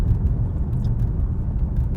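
Alfa Romeo Stelvio Quadrifoglio engine with a raspy character, heard as a steady, dense low rumble from inside the car that holds even for two seconds without any talking.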